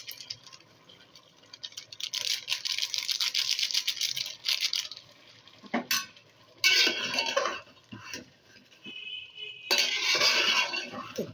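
Biryani is stirred in a pot, with bursts of scraping and rustling alternating with quieter pauses and a few clinks of a utensil against the pot.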